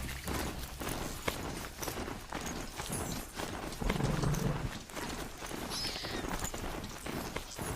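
Horse hooves clip-clopping steadily on a hard surface in a brisk, even rhythm, fairly close and clear, with a brief louder scuffle partway through and no talking over it.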